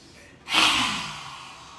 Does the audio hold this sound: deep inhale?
yes